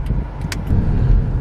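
Car traffic on a town road passes as a steady low rumble of several vehicles, swelling slightly toward the end, with no voices over it.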